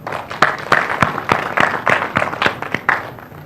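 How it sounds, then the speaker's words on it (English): A small crowd applauds at a political media chat: dense, uneven clapping with sharp individual claps standing out, moderately close, steady for a few seconds with no talk over it. "a round of applause for everyone"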